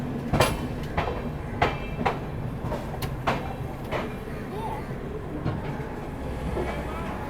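Superfast express train pulling into a station platform in India, heavy rolling rumble with a run of loud rhythmic wheel clicks over rail joints, slowing toward the end.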